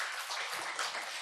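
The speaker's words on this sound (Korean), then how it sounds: "우리 하나님 박수." Church congregation applauding during a Sunday worship service, a steady, fairly faint wash of many hands clapping together for a moment, with no voices over it.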